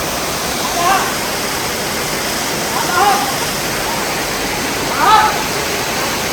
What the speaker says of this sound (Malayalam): വെള്ളം അടിച്ചു കൊടുത്ത് കുളിപ്പിക്കുകയാണ് ചൂടിന്.